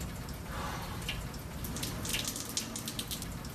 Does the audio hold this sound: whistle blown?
no